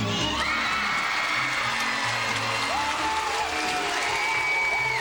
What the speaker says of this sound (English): you hear the roar in the background from the partisan Penn State crowd